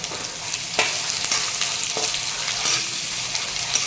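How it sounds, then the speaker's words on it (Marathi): Onions frying in oil for a masala with garlic and ginger, a steady close sizzle with occasional stirring scrapes and pops throughout. "त्याच्याचबरोबर आपल्याला लसूण, आलं हेही मिक्स करून चांगलं भाजून घ्यायचं आहे"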